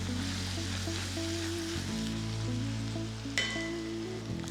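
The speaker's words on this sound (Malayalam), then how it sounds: "നല്ലതായിട്ടൊന്ന് 5 മിനിറ്റെങ്കിലും കിടന്നൊന്ന് വഴറ്റിയെടുക്കുക." Beef pieces sautéing in a pan for a Kerala-style beef pepper fry, a steady close sizzle with soft stirring scrapes beneath a continuous low hum, with a brief louder clatter near the end.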